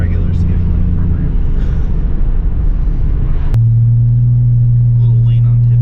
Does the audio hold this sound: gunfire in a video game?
no